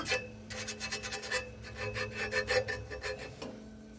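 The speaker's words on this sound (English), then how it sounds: "You need to take a file or something around here, sandpaper, and make sure it's clean." Close, quiet rasping strokes of a hand file cleaning burrs, dirt and paint off a metal drive part from a Case Ingersoll tractor snow blower, in an irregular back-and-forth rhythm with a faint steady hum underneath.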